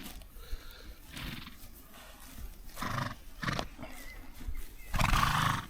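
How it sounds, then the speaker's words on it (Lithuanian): Horses neighing and whinnying outdoors amid a herd with foals running about, several calls rising at intervals over a soft steady background, with loud bursts near the end. "Va, tarp žirgų esu. Aplinkui žirgai."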